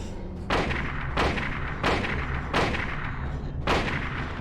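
Gunshots in the Silent Hill video game: five heavy, booming shots spaced about a second apart over a constant low rumbling background, with no talking.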